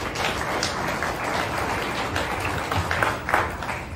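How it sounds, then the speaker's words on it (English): An audience at an industrial technology conference applauds steadily, a dense, even wash of clapping at moderate volume with no speech over it. "A round of applause for Carson Drake, everybody."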